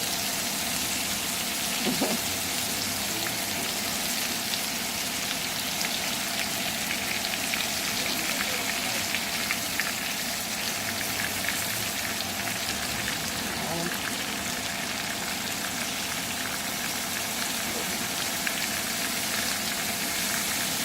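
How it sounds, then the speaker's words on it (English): A steady, loud sizzle of shrimp frying in a hot pan, continuous crackling and spitting throughout with no talking. "I want to hear a sizzle. This is no fun without the sizzle."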